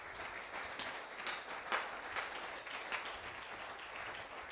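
A church conference congregation applauding and cheering for the Lord, a continuous wash of clapping from a crowd at moderate distance, swelling in uneven pulses without clear speech.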